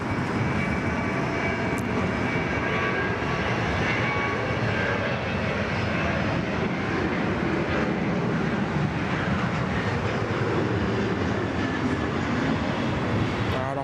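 A passenger aircraft landing on runway 34 left at Sydney Airport, its engines giving a loud, steady broadband roar that holds throughout, fairly close and with no talking.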